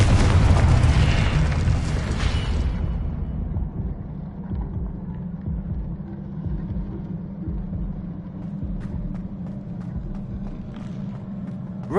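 Confringo blasting spell exploding in Hogwarts Legacy, a single heavy, loud boom up front that rolls into a long, low rumbling decay fading over several seconds.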